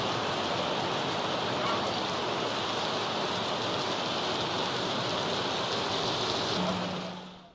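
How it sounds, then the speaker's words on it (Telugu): Heavy monsoon rain pours down across Hyderabad, a loud, dense and unbroken hiss of water that holds steady throughout before tapering off at the very end. "హైదరాబాద్ వ్యాప్తంగా విస్తారంగా వర్షాలు కురుస్తున్నాయి"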